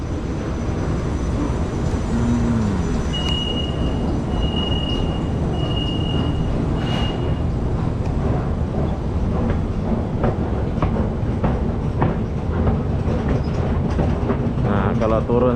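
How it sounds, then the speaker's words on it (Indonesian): A light rail train rumbles in and slows at a station platform in Malaysia, wheels squealing briefly amid steady mechanical noise and a high electronic chime. "Tuh, LRT-nya udah sampai."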